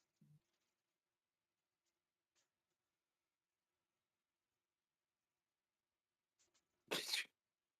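A single sharp sneeze bursts out loudly and alone near the end, after long near-silence with a few faint ticks and small noises earlier.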